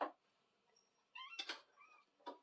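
A cat gives a short meow early on, then a few louder, closer meows follow after a pause in a quiet indoor space where work on an axle is underway.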